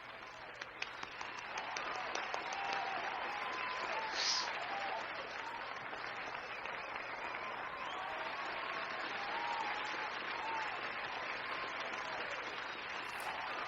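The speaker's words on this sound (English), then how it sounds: "He gets a round of applause for that." A canned applause sound effect plays during a podcast: steady crowd clapping that starts a little ragged, swells within a couple of seconds and holds full and dense for the whole stretch with no talk over it.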